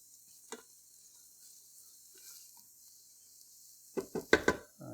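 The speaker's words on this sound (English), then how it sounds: "I'm going to add the garlic in there" Minced garlic, a couple of cloves, sizzles faintly and steadily in a hot pan, a low hiss under a few soft clinks, then a quick cluster of louder stirring and utensil clatter near the end.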